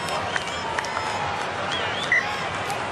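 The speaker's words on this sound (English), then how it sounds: "knowledgeable members of the crowd are clapping Dan Vickerman" A rugby stadium crowd applauding a player, a spread-out patter of clapping mixed with crowd murmur and scattered shouts, heard at a distance under a broadcast bed.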